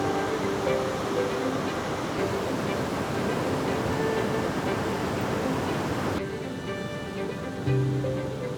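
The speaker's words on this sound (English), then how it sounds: "There it is. The Pacific Ocean." Pacific Ocean surf rolling onto the coast of a Central American shoreline, a steady broad wash of breaking waves with wind noise, continuous and moderately loud throughout.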